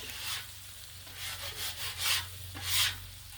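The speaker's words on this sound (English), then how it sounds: "We'll scrape off a little bit of this sauce." A spatula scraper scrapes sauce off a Blackstone griddle during a chicken taco cook, giving a series of close, raspy scraping strokes in uneven rhythm over a steady low hum.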